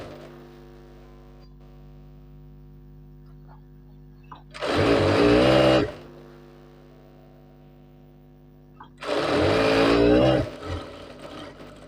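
A tailor's sewing machine stitches the shoulder seam of a shirt in two loud bursts of about a second each, separated by a pause, over a steady electrical hum throughout and heard up close.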